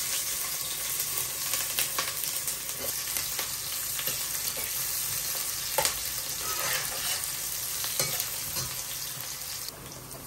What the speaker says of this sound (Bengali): পেঁয়াজটা ভাজা হয়েছে